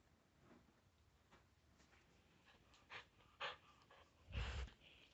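A tired dog pants softly in a quiet room, with faint rapid breaths building to a few louder snorting huffs near the end.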